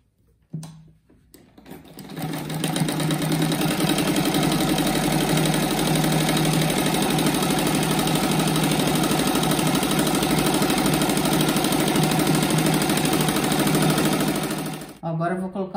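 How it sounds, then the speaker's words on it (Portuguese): Sewing machine stitching fabric for a square-patch rug, a steady close-up mechanical whir running continuously for about thirteen seconds before stopping, with faint handling sounds at the start and end. "Agora eu passo uma costurinha aqui só para segurar no lugar aqui."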